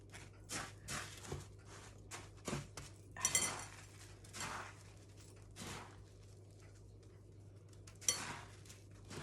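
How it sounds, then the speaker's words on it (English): A spoon stirs a sticky white Christmas mixture of coconut and fruit in a bowl, giving irregular soft scrapes and light clinks, faint and close, with quiet pauses between strokes. "I'm going to give that a really, really good mix. Really stir it through."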